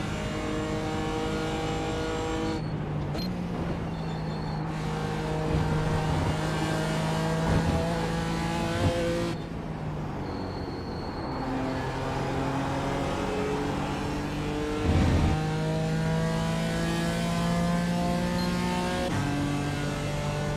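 Race cars at Phoenix in a NASCAR video game roar along in a steady engine drone, with repeated upshifts and pitch changes across a continuous stretch and no talking.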